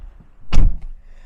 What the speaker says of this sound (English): So now I'm going to shut the door